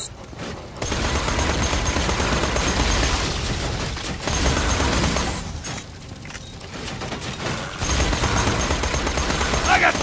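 Automated turrets firing in Borderlands 2, dense sustained gunfire with bursts and booms layered over game music and effects, loud and continuous with brief lulls, while a voice talks over the action.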